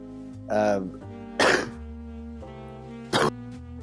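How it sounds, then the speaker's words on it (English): Three harsh coughs close to the mic, spaced apart, with a low hum of background noise between them. "I had to stop talking because of the coughs."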